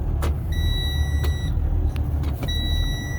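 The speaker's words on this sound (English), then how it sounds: "If you're driving on semi-automatic, I mean, you're just gonna put in first gear, and then you're gonna tap in the accelerator." A semi truck engine runs with a loud, steady low rumble during a brake tug test, and high whining tones come and go above it.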